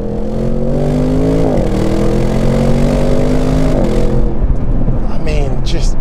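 Audi RS6 Performance Avant engine pulling hard under acceleration, a loud steady drone that rises in pitch, drops at a gear change, then climbs again, with cabin noise throughout.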